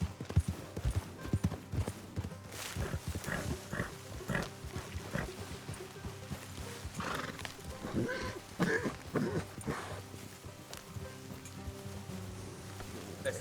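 Horses trotting in Red Dead Redemption 2, a steady clip-clop of hooves running through the whole stretch alongside game ambience and occasional snorts, fairly close and continuous.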